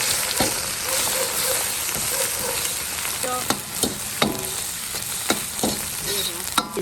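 Ginger, garlic and chili frying in hot oil in a wok, a continuous crackling sizzle broken by sharp clinks and scrapes of a spatula, with a few brief words spoken over it.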